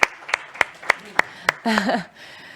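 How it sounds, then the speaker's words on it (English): A few separate, evenly spaced claps at a summit event after an agreement signing, then a brief voiced murmur or chuckle, with quiet pauses between the claps. "Receive a very warm applause from here, from Barcelona, Spain."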